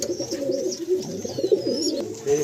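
Pigeons coo steadily in a pigeon loft of breeder pairs, low rolling calls overlapping close by, with faint higher chirps above and no talk.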